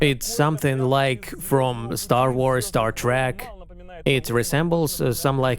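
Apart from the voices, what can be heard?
None of the usual background noises is heard.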